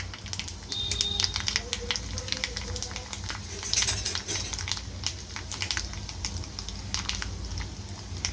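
Tempering for curd rice fries in a pan, a steady dense sizzle and crackle running throughout at close range with no talk over it.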